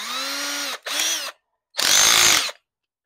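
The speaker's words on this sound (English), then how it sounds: "Next, we're just gonna take a drill, and I have on this a 3/32 bit to screw those in." Power drill driving chrome trim studs with a 3/32 bit into a Pontiac Firebird rear window frame: two close, loud whirring bursts, a brief pause, then a third longer high-pitched run, no talk.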